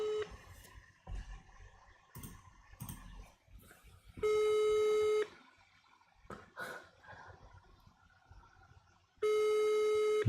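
Two bursts of a steady electronic telephone busy-signal tone, each about a second long, separated by clattering handling noises and faint rustling.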